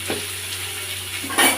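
Green chillies, curry leaves and shallots sauté in hot oil in a pan for a prawn thokku, giving a steady, close sizzle with a brief louder crackle near the end.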